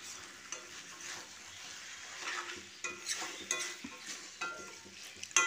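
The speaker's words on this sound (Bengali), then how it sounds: "এরপর আবারও আমি এটা ভালো করে একটু মিশিয়ে নেব।" Cabbage cooked with a rohu fish head is stirred in a pan: steady scraping and clattering of the spoon over a soft sizzle, close and continuous, with a sharper knock at the end and no voices.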